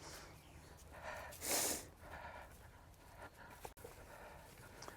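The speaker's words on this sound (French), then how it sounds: "le chien qui nous suit tout le temps là" A dog following people through a vegetable garden breathes and snorts close by, with one loud snuffling burst and softer panting huffs, faint background noise and little talk.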